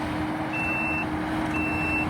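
Reversing beeps from a 2023 Kubota SVL97-2 skid steer pushing dirt, two long steady tones about a second apart, heard over a constant low engine rumble.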